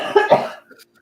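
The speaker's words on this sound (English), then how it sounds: "I've got your cough." A single short, close cough in two quick bursts, heard alone against silence.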